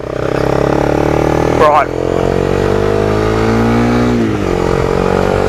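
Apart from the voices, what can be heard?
Honda CB300F motorcycle accelerating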